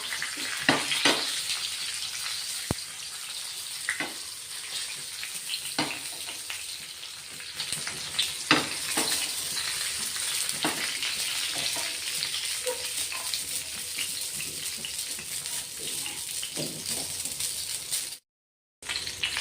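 Green chillies fry on a tawa as the pan is turned, a loud, steady sizzle with scattered pops and crackles running close and continuous, broken by a short silence near the end.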